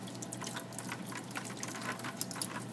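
A sink faucet runs at low flow while ink is scrubbed off a printmaking brayer and tray. The water gives a steady, soft hiss with small splashes and drips, and no one speaks.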